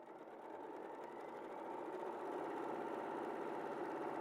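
A sewing machine stitches steadily and continuously, a constant close mechanical hum with a fine rapid needle rhythm, running alone without any talk.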